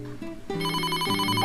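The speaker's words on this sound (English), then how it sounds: "The telephone didn't stop ringing." A telephone rings in a bright, repeating electronic pattern, loud and close, alone with no voices over it.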